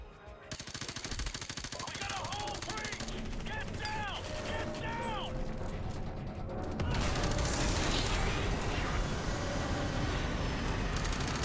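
Automatic gunfire in Call of Duty: Modern Warfare, a steady stream of shots and battle noise running throughout and growing louder and denser in the second half, with a voice talking over parts of it.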